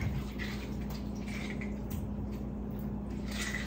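Corn being rinsed under running water, a steady continuous splash and trickle at moderate level with no talk.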